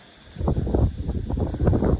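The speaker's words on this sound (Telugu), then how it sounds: "గాలి చూడండి" Wind gusts through leaves at night, a soft rushing rustle that swells after a quiet start and keeps surging unevenly, with no talk.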